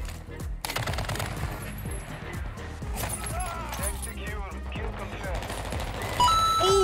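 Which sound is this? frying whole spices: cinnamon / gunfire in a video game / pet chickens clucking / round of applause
gunfire in a video game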